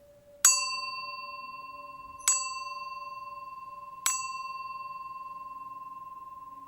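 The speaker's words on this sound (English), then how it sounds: "as the bells play" Three clear bell strikes spaced about two seconds apart, each ringing out and slowly decaying over a quiet background.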